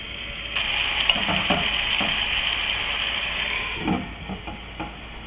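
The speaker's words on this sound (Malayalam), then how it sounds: "ഇതിലോട്ട് നമ്മൾ മാരിനേറ്റ് ചെയ്ത് വെച്ചിരിക്കുന്ന ചിക്കൻ പീസുകളിട്ട് ഷാലോ ഫ്രൈ ചെയ്തെടുക്കുക." Marinated chicken pieces shallow-frying in olive oil and butter, a loud sudden sizzle that starts as the pieces go in and holds steady, with a few utensil taps near the end, close up.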